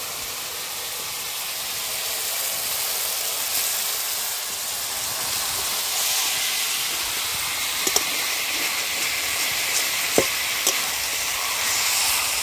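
Meat dropped into hot spiced oil in a home kitchen pan while cooking meat with potatoes, giving a loud, steady broadband sizzle with occasional sharp pops and crackles, no talking.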